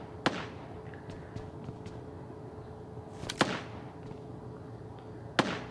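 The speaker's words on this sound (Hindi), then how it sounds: "वही फायरिंग आ रही थी" Gunfire in the battle royale video game PUBG, three sharp isolated shots spaced a couple of seconds apart, fairly distant over a quiet background.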